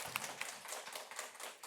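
A church congregation at a summer Bible school service claps, a brief scattered patter of hands at moderate distance, quick and uneven, without speech.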